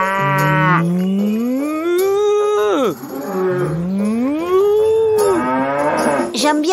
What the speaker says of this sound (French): Dans la première ferme, il y a surtout des vaches.